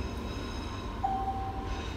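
A train rumbles into a station, a steady low rolling drone with a brief faint squeal partway through, heard close and continuous without voices.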